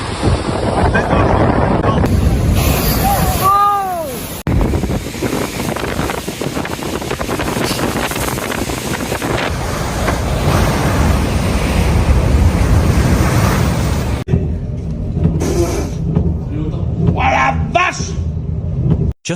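Roaring storm wind buffets the microphone over crashing ocean surf, loud and continuous, during storm Goretti over the North Atlantic, with voices talking and shouting beneath the gusts.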